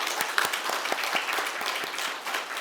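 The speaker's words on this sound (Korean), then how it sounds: "하나님 앞에 영광의 박수를 한번 돌리겠습니다" A church congregation gives a dense round of steady applause at a New Year's Eve worship service, clapping loud and continuous throughout.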